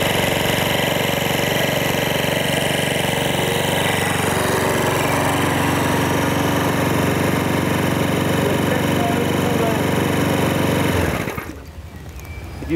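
A Mountfield self-propelled rotary petrol lawn mower runs close by with a loud, steady engine drone, then cuts out abruptly near the end, leaving only faint background.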